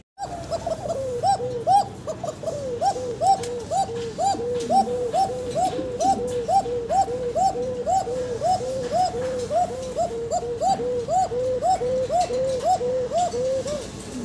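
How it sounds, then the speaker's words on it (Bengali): Fancy pigeons coo in a steady, repeated series of rounded calls, about two per second, close and fairly loud over a soft background of shuffling and faint chirps. "উমের কবুতর, তারপরে মার্শাল্লাহ ভালোই ডাকলো"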